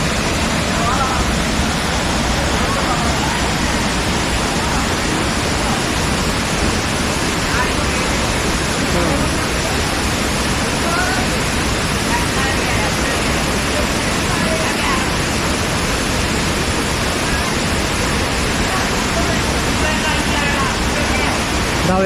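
Rushing water pours continuously from a waterfall at Vattavada in Munnar, a loud, steady broadband roar filling the scene throughout without pause.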